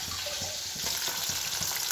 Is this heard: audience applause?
no